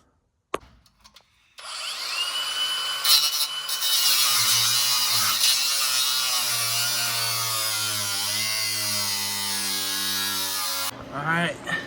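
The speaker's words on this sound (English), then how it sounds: "I'm gonna get started on the crossmember bolts." Power tool, likely an impact or drill, spinning out the transmission crossmember bolts under a truck. A loud, sustained, close whirring grinding runs for about nine seconds after a short knock and pause, then cuts off abruptly.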